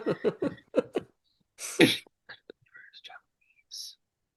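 A person clears their throat once with a rough, breathy burst in a quiet room, just after some soft speech-like sounds, with a few faint clicks and small noises afterward.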